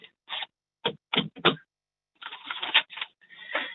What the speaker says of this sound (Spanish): Be careful using scissors.